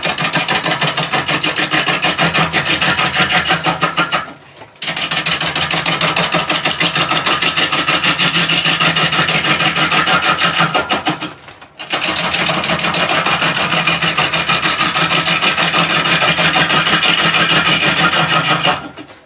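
A wooden garlic pot being turned on a lathe with a bowl gouge, loud continuous whirring and rasping cuts in three long passes, each broken by a short pause.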